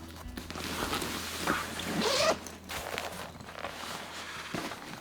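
Zipper pulled open along the full-zip rear compartment of a Peak Design 45L travel backpack, a close, rasping run of about a second that builds and then stops abruptly, with light handling noises around it and no speech.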